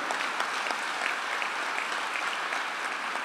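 Dense, sustained applause from a large audience at a graduation event for families in Cúcuta, Colombia, a steady crackling roar of many hands clapping at once without pause.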